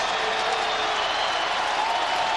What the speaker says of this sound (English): Crowd trying to urge this volunteer defense on.